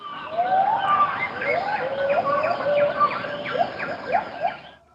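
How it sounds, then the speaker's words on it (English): Gibbons sing to each other in a tropical forest, a series of rising, whooping tonal calls repeating in quick succession over a faint background hiss, clear and moderately near. "some gibbons singing to each other"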